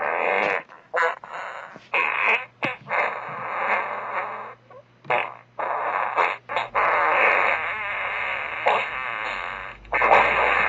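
Fart-like sounds squeezed from a yellowfoot mushroom come as a series of buzzy, sputtering bursts with brief gaps between them, close and fairly loud, with no talking.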